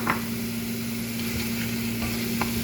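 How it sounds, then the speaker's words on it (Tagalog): Chicken pieces stirred through tomato paste in a hot pan, giving a steady close sizzle with scraping stir strokes throughout, no voices. "Ikot natin ang chicken sa tomato paste lang."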